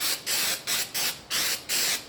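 CA glue activator sprays onto a wooden board in five quick bursts, each a close, loud hiss separated by brief pauses.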